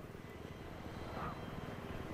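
A helicopter in the Battlefield 3 video game drones with a steady, rotor-heavy rumble throughout, fairly loud and continuous with no voices over it.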